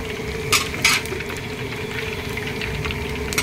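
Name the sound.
tempering curry leaves, dried chillies, black mustard, five-spice in oil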